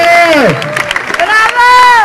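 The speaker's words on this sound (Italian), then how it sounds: "applauso per la nostra." A crowd at an outdoor gathering in Monte Vidon Corrado cheers with raised, sustained voices, broken midway by a burst of scattered clapping, all close and loud.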